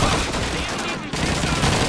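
Rifle gunfire in the World War II shooter Call of Duty 2, a loud, continuous fusillade of rapid overlapping shots filling the whole moment, with a brief dip midway.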